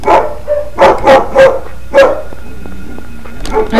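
Monster dogs in the video game Silent Hill barking close and loud, about six sharp barks in quick succession, followed by a short electronic game sound and one more bark.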